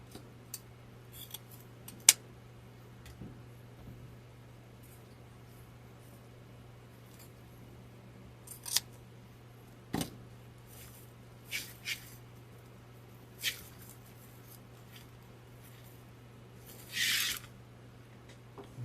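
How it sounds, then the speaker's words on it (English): Scissors snip faux burlap ribbons in a handful of quick, scattered cuts while a summer watermelon wreath is being assembled, set over a steady low hum with no talking. "let me cut these first"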